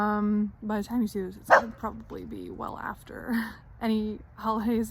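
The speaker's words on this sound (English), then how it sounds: "You can hear her barking." A dog barks outdoors on a holiday, its yips and barks coming in short bursts mixed in with a person talking nearby.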